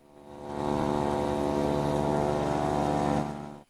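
A Shahed drone in the video game Total City Smash 3D gives a loud, steady, buzzing engine drone that swells in, holds evenly for a few seconds, then cuts off sharply.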